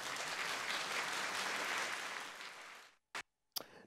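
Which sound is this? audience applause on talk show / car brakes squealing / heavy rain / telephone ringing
audience applause on talk show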